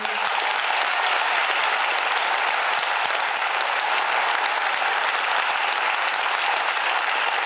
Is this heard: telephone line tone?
no